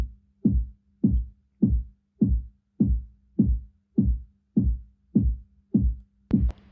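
A deep, booming kick drum for an afro dancehall beat thumps alone in an even, steady pulse, about eleven hits with a soft low hum underneath, the last hit topped by a brief click.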